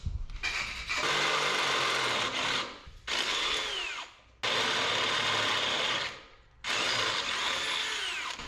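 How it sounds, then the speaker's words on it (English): A power drill bores 5/8 inch holes during a 1963 Loadstar chassis cart rebuild, loud whining bursts of cutting in four runs separated by short pauses. "that drill bit gets after it. Lop us some 5/8 holes."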